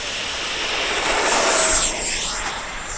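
A radio-controlled F-18 model jet with a 70mm ducted fan takes off at a private house, its loud whining fan roaring steadily and sweeping in pitch as it passes close by.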